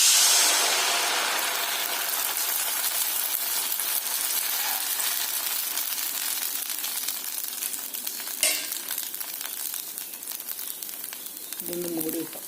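Rava dosa batter frying in a hot oiled cheenachatti pan, a steady close sizzle and crackle that continues throughout, with a brief clink of utensils near the end.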